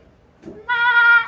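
A person imitates a goat's bleat: a short breathy lead-in, then a sustained, wavering nasal bleat, loud and close, with no talking.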